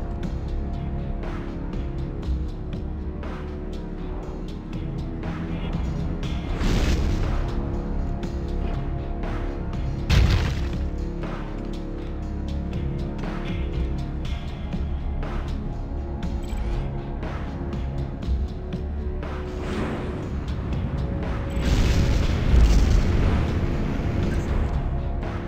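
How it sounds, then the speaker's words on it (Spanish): Iron Man's repulsor rockets fire in a PSP game, heard as several loud whooshing, booming bursts over a steady dense rumble of game sound. "Empecemos con los cohetes repulsores."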